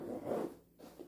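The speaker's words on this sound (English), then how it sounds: "The zippers seems fairly good too." A zipper on a Bellroy Transit Workpack Pro 28L backpack is pulled in one short close scratchy run, followed by a brief quieter tug.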